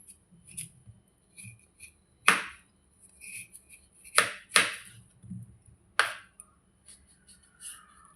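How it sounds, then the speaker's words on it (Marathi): A knife cuts raw green mango into medium pieces, a few crisp separate chops and clicks at uneven intervals, close up, with quiet handling between them and no talking. "सगळ्या फोडी आपण कापून घेऊ आपले आंबे कट करून झालेले आहेत"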